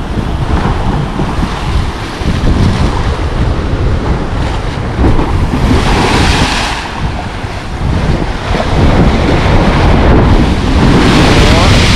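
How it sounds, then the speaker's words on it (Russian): Large sea waves break and surge on a beach at Lazarevskoye, loud and continuous with heavy wind buffeting the microphone, the roar swelling and easing as each wave rolls in. "Вроде бы волна большая, по факту что-то как-то брызгов мало"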